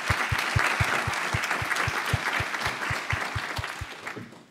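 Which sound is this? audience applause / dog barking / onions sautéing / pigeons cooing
audience applause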